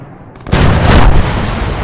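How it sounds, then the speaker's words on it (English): Mortar fire in a military video game lands as a sharp, loud boom with a brief rumbling tail after a short quiet lead-in. "Yeah, those are mortars."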